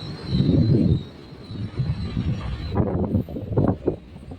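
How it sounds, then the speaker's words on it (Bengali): A train rolls onto the Vivekananda bridge over the Rupnarayan river at Kolaghat. A moderate, uneven rumble of the rail cars is heard from on board, with a faint high whine fading partway through. "আমাদের ট্রেন এখন প্রবেশ করছে বিবেকানন্দ সেতুতে"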